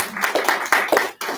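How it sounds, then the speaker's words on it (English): Audience clapping at a book release celebration, a small crowd whose individual hand claps come through distinctly in an uneven rhythm, close and moderately loud, with short dips between bursts and no talking. "And another round of applause for the"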